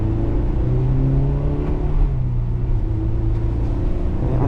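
A 2001 Honda S2000 AP1 engine revs loudly and close up while driving on a winter road, its pitch rising and falling around missed upshifts under a constant drivetrain rumble.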